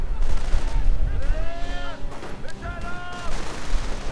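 Gunfire from Thompson submachine guns and an MG42 in a World War II strategy video game: repeated bursts of automatic fire and distant booms under a continuous battle din, with a voice speaking over it.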